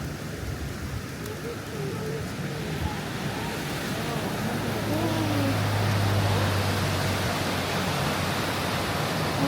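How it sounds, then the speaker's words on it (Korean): Fast-flowing valley stream in Furano, Hokkaido rushes continuously with a broad, steady roar, with faint voices murmuring under it. "여기 계곡이라서 이렇게 물소리가 들립니다."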